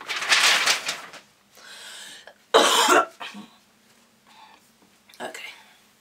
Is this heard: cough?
yes